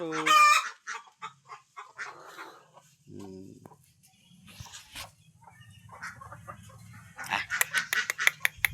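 A rooster crows loudly at the start, followed by scattered clucking from chickens and sharp bird calls, close by with quiet gaps between bursts.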